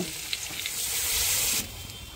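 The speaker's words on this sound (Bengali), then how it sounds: "আলু পটলটা ভাজা হয়ে গেছে, পরিমাণ মতন জল দিয়ে দেব" Water poured into a pan of frying potato and pointed gourd for a simple vegetarian curry, a steady loud sizzle that swells for over a second and then drops back to a quieter crackle, with no voices.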